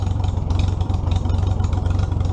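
A 1944 Minneapolis Moline ZTU tractor engine runs loud and close with a steady low rumble and rapid clattering pulses, holding even throughout without any voices.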